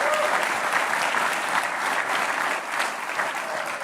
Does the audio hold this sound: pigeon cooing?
no